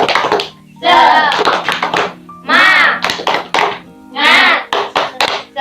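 A primary-school class performs a rhythmic 'tepuk semangat' clap chant, with bursts of sharp hand claps and desk taps alternating with voices chanting in unison, close and loud.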